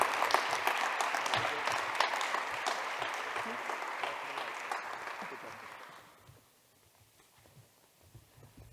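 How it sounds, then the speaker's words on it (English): A school awards ceremony audience gives a sustained round of applause, dense crowd clapping that holds steady and loud for about six seconds, then thins and fades to a low murmur of scattered claps. "I think they deserve a round of applause as a group."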